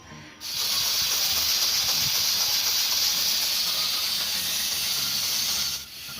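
Loud, steady hiss of steam venting from a pressure cooker cooking meat for shami kabab, continuous for several seconds before cutting off abruptly.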